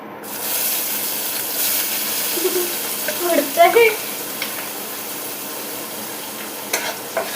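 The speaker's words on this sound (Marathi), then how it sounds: "आता आम्ही टाकणार आहे कांदा, कारण की तेल गरम झालेलं आहे" Chopped onion drops into hot oil in a pan and sizzles and hisses steadily up close, with a brief soft voice murmuring midway and a couple of faint clinks near the end.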